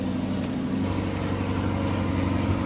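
A 2020 Chevrolet Corvette C8 with a valved performance exhaust holds a steady, loud, deep engine drone, idling or cruising evenly with no talk.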